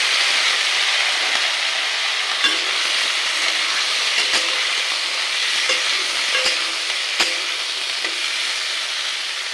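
Pointed gourd and onion fry in a hot pan, giving a dense, even sizzle that runs the whole time, with occasional light taps and clicks of stirring, close and loud with no voices.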